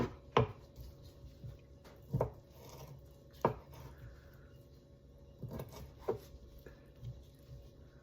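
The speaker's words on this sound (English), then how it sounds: "we're going to cut these into equal sized pieces as the steak" A knife chopping shrimp into pieces on a board for a surf and turf pizza, several sharp separate cuts at uneven intervals in a quiet room.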